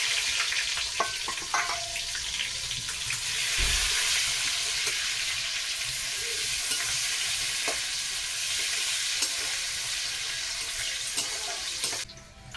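Chopped onion and dried red chilli sizzle in a frying pan with a continuous crackling hiss and occasional clinks of stirring. No one speaks.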